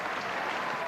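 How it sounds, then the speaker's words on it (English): Applause from Australian football fans at the Sydney Cricket Ground for the Sydney Swans in a 1993 match against North Melbourne, a dense, steady crowd clapping heard from a distance. "Generous applause from the fans for the Sydney Swans."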